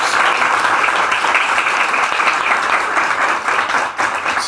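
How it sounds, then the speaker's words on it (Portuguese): Church congregation at a Brazilian evangelical service bursting into loud, sustained applause, a dense wash of many hands clapping together throughout, close and full. "Eu convido você a dar uma grande salva de palmas à palavra do Senhor."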